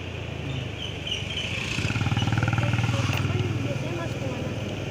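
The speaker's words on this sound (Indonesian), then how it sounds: "kenceng kali suara motornya" A loud motorcycle engine drones close by in traffic, swelling briefly in the middle, with a person talking over it.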